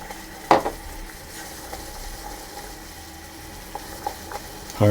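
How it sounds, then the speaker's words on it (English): Caramel mixture being stirred in a pot gives a soft continuous sizzle with a few faint scrapes and clinks of the spoon, quiet and close with no talking. "I'm going to stir that around."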